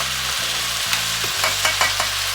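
Beef stir-frying in a hot pan for Thai basil beef (kaprao), a full kilo of meat, with a steady loud sizzle and several sharp scraping strokes of a spatula near the end, no voices.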